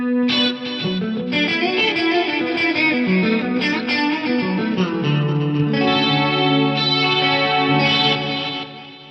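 Electric guitar playing continuously through a warm plate reverb with its warmth turned fully up, notes blooming and sustaining into a dense wash of sound.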